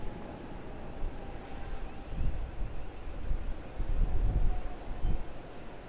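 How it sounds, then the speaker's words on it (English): A Vietnam Airlines Boeing 787 arrives at Sydney Airport with a steady, low jet roar that swells and eases, heard from a distance with no talk over it. "Vietnam Airlines Boeing 787 arriving"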